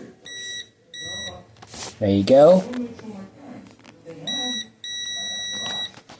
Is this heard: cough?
no